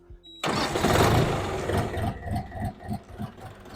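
A tractor engine cranks and catches abruptly, then settles into a loud, uneven idle with rhythmic chugging pulses, close by.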